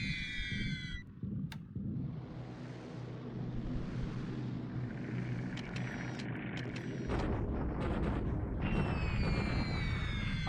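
Bombing explosions in a World War II strategy video game, a rumbling blast sustained across the clip with a heavier, denser burst late on, plus thin synthetic tones from the game interface.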